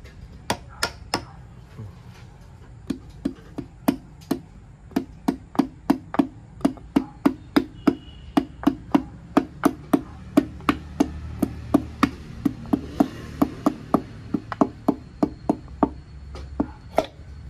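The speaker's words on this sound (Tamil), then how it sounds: "இப்போ லைட்டாக சென்டராக தட்டுங்க, சென்ட்ரு பார்த்து தட்டுங்க" A piston being tapped down into the cylinder bore of a Ford Fiesta engine during assembly: a long series of sharp, evenly spaced light knocks, close and clear, pausing briefly before resuming at a steady rhythm.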